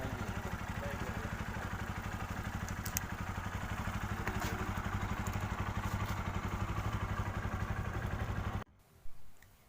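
A Bajaj Pulsar NS200 motorcycle engine, just fitted with a new timing chain, runs steadily with a rapid, even chugging and mechanical clatter, close by, then cuts off abruptly near the end.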